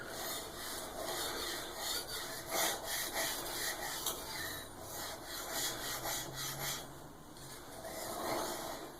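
A knife blade is freehand-sharpened on a sharpening stone, close gritty rasping strokes repeating in an uneven back-and-forth rhythm, moderately quiet with no talking.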